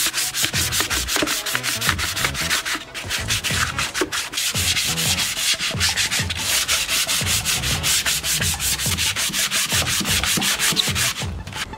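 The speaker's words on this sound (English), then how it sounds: "So I'm just trying to sand any brush strokes away." Hand sanding of chalk-painted wooden furniture to smooth away brush strokes: a dense, continuous run of quick, scratchy rubbing strokes, close and loud throughout, with no voices.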